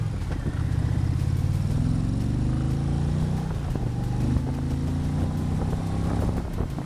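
Indian Challenger Dark Horse cruiser motorcycle accelerating hard through its gears, a steady loud engine drone with rising pitch sweeps at each upshift, no voices.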